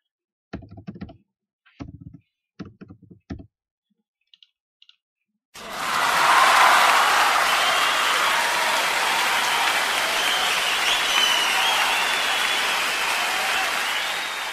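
Loud applause sound effect from a coding-built electronic door lock program, erupting after a correct passcode opens the lock and holding steady for about nine seconds after a few short typing clicks.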